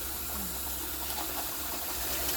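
Rice is washed in a pot and the cloudy water is poured off while cooking Jamaican rice and peas, a steady, close rushing of water that continues throughout.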